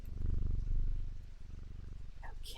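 A cat purrs close up in the video game Strange Antiquities, a steady low rumbling pulse that swells and eases over a couple of seconds.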